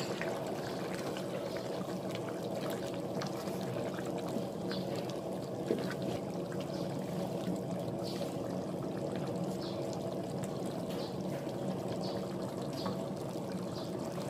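Water is poured into a pot while cooking Hang Lay curry, a steady pouring and trickling wash that runs for the whole stretch at moderate loudness with no voices.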